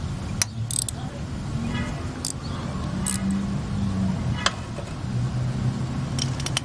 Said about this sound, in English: So I got a 14 millimeter wrench here